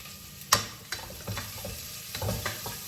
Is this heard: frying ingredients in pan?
yes